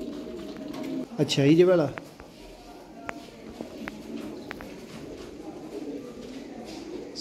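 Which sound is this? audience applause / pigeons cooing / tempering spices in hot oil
pigeons cooing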